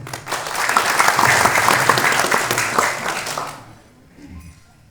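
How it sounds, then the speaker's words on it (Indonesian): Audience applause for martial arts athletes at a belt grading event, a loud, dense clapping burst that holds for about three seconds before fading out to near quiet. "Oke, tepuk tangan."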